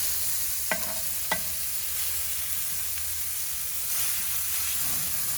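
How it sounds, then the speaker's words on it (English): Steady loud sizzle of smashburgers searing on a Kamado Joe grill, with oil dripping onto the fire below and two sharp pops early on standing out from the continuous frying hiss. "That's that oil hitting the fire."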